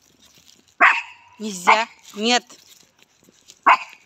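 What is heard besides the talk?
dog barking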